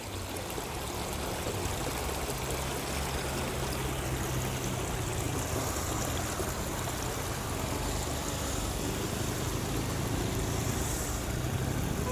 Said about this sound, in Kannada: ಟ್ಯಾಂಕ್ ಓವರ್ಲೋಡಾಗಿ ನೀರು ಲಕ್ಷಾಂತರ ಲೀಟ್ರು ಪೋಲಾಗ್ತಾ ಇದೆ